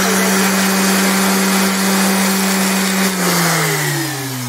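A power sander whirs steadily, with a finer grit, on a small wooden peg doll car wheel, the motor loud and close, then winding down slightly toward the end.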